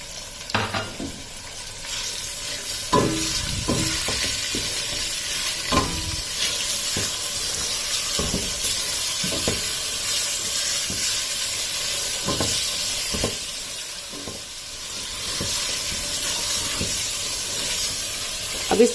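Boneless chicken strips fry with garlic ginger paste in a pan, making a steady close sizzle with the scrape and clatter of a spoon stirring the pan at irregular intervals.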